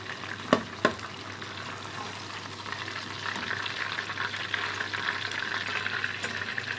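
Squid pieces frying in very hot oil, around 180 to 200 degrees, a steady close crackling sizzle that grows slightly denser, with two sharp clinks near the start.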